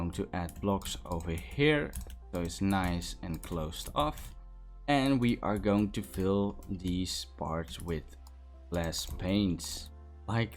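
Loud computer keyboard clicking in rapid bursts of keystrokes during a Minecraft building session, running under continuous close male speech throughout.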